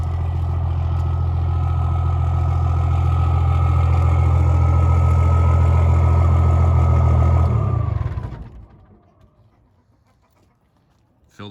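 A second-generation Cummins diesel truck engine idles loudly after a cold start with a deep, steady rumble for several seconds, then shuts off abruptly, leaving near silence.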